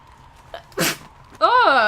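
A person sneezes once up close while playing the PS4 game Horizon: Zero Dawn, a sharp burst of breath followed immediately by a short voiced exclamation.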